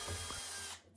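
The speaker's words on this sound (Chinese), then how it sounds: "进柜开孔，我们用的是8毫米的钻头。" A power drill with an 8 mm bit boring holes into a bathroom cabinet, giving a loud, close, continuous whine that drops away abruptly after about three quarters of a second.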